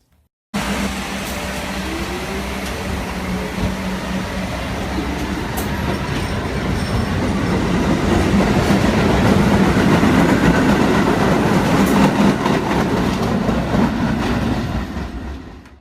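A Staten Island R44 subway car with General Electric traction motors runs loud and close, a steady rumbling roar with rail noise and faint clickety-clack building slightly as it moves along, no talk.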